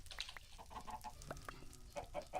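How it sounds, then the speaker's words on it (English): Chickens clucking in a video game, several soft overlapping clucks and short calls scattered over a couple of seconds, faint and somewhat distant against a quiet background. "got some chickens"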